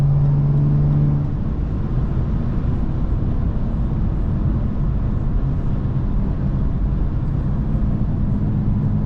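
BMW 435i with 500 hp accelerating hard to overtake, a loud, dense engine roar and road noise that holds steady throughout after a brief tonal hum at the start.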